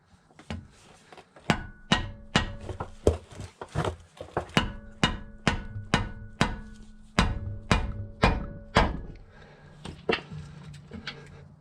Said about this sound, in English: I'm gonna try a shorter breaker bar, because the other one was a little too long, and a mallet.